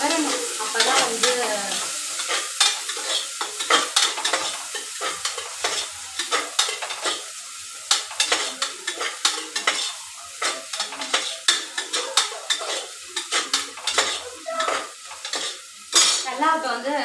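Onions fry and sizzle in a pan for chicken biryani as a spoon stirs and scrapes repeatedly against the metal, close and busy throughout.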